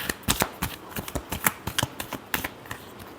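Tarot cards being shuffled by hand, a quick series of crisp, close riffling snaps in an irregular rhythm, fairly quiet and without talk.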